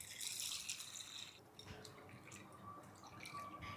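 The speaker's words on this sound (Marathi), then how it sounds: "1 कप हरभऱ्याची डाळ घेतलेली आहे आणि ही आपल्याला स्वच्छ धुवून घ्यायची आहे" Water splashes and drips as one cup of chana dal (split chickpeas) is washed clean, soft sloshing and trickling close by at low volume, with no talking.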